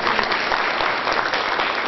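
Seminar audience in Tokyo applauds, a continuous close wash of many hands clapping at a steady, moderately loud level with no one speaking.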